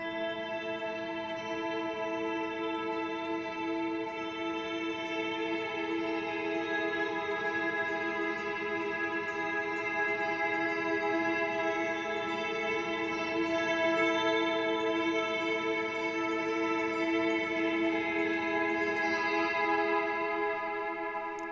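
Guitar through a Mr. Black Eterna reverb pedal at full 100% wet mix, a dense washed-out wall of sustained shimmering tones that drones evenly and loud throughout, with no distinct attacks.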